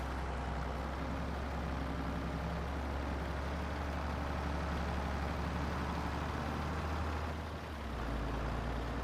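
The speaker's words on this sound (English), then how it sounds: "This tractor does sound good." A tractor engine runs steadily from start to finish, a loud continuous low rumble that dips briefly near the end, with no talking over it.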